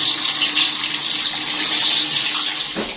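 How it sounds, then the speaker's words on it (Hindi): Rice is washed under running water from a tap in a Pakistani village kitchen, a steady loud rush of water that fades slightly at the end. "और ये भी धुल रहे हैं चावल।"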